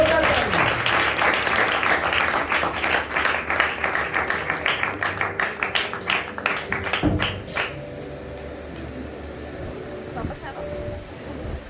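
A church congregation in Gojra claps loudly to welcome a pastor's wife. The applause is dense and sustained, then thins and fades out after several seconds, with voices talking over the room.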